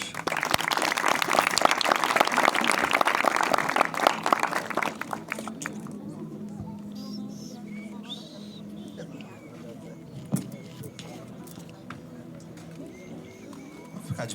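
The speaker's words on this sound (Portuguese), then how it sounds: "Salva de palmas para Jesus." A crowd at an outdoor street church gathering claps and applauds loudly for several seconds, then the clapping fades out, leaving quiet room sound with faint scattered noises.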